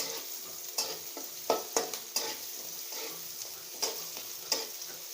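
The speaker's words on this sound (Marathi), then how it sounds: "चांगला लाल होईपर्यंत असं तळून घ्यायचा, कच्चा बिलकुल नाही ठेवायचा." Ingredients sizzle steadily in a pan while being fried until reddish for a quick Maharashtrian masale bhaat, with a spoon scraping and stirring in sharp clinks every second or so over a constant close hiss.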